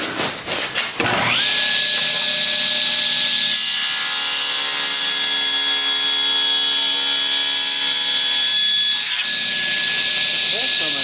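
A power saw cuts a notch into a wooden board for an entry table, a steady sustained whine with a strong tonal hum that runs for about eight seconds before cutting off, close and loud, with no talking over it.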